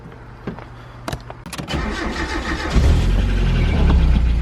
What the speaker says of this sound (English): It's got a welded diff, so we're gonna do some donuts.